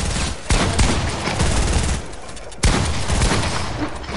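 Rapid gunfire bursts from a shooter video game, loud and close, with dense overlapping shots that break off briefly before resuming in a second burst, no talking.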